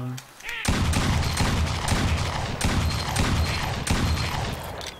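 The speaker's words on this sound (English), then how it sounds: "Let's use the different shotguns here." Continuous heavy gunfire with repeated booming blasts from shotguns in the Duck Dynasty video game, loud and dense, with voices talking underneath.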